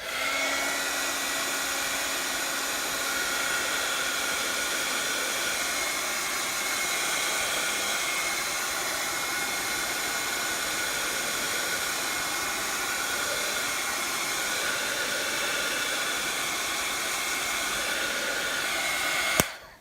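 A hair dryer blows steadily and loudly up close to dry paint colors on an illustrated journal page, a constant whirring hiss that runs unbroken before cutting off abruptly at the very end.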